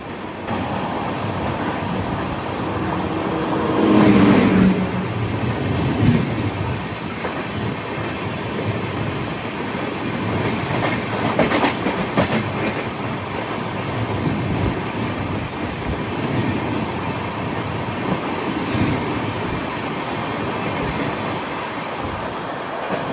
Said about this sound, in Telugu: అదిగో వస్తుంది చూడండి, రిషికేష్ పూరి బండి. కళింగ ఉత్కాల్ ఎక్స్ప్రెస్.